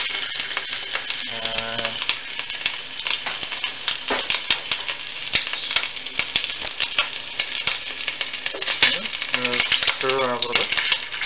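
Ginger garlic paste frying in hot oil, a continuous crackling sizzle with bursts of spattering and the occasional scrape of stirring, close and busy throughout.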